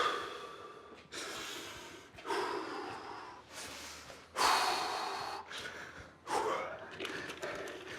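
A man breathes heavily after a Navy SEAL-style HIIT workout, loud gasping inhales and forceful snorting exhales repeating in an uneven rhythm, close to the microphone.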